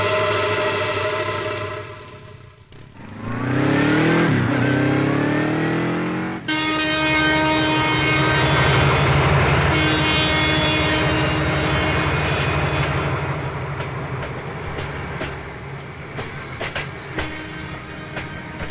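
A train passes near a railway station in a Telugu action film scene, a loud, continuous rumble with rising, sweeping engine and horn tones in the middle that then settle into a long, slowly fading roll.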